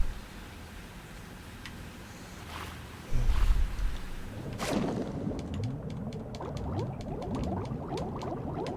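Character diving underwater in Metal Gear Solid 2 on PS2: a splash and plunge, then muffled bubbling and gurgling with rising bubble streams, fairly close and loud.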